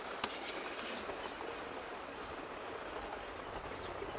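A gentle, steady stream of cold water running onto drained semiya vermicelli, an even hissing pour at low level throughout with no voices.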